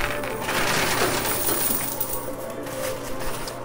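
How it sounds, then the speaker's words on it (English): Quarters clatter and drop steadily inside a coin pusher arcade machine, a loud, dense metallic jingle running continuously with no talk. "let's go ahead and load this thing up with quarters using the skill stop button"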